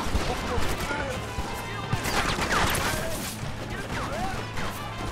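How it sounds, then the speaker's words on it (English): Machine gun fire in Red Dead Redemption, a dense, continuous crackle of rapid shots and impacts under a busy game soundscape, with a voice talking over it. "Okay, the machine gun's over here."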